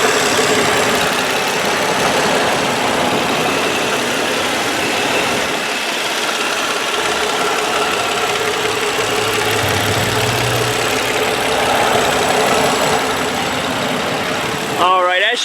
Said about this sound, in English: as you can hear, pretty quiet motor